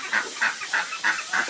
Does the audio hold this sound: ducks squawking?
yes